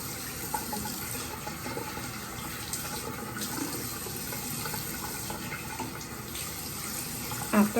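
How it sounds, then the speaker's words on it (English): Running tap water during rinsing off, a steady close hiss and splash of flowing water from a faucet into a sink, continuous and even, with no speech. "I'm gonna go ahead and rinse this off."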